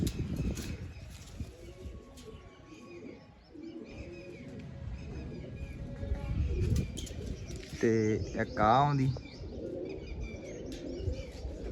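Pigeons arrive and settle on a rooftop loft perch, giving soft coos amid a burst of wing flapping, while someone talks over the scene.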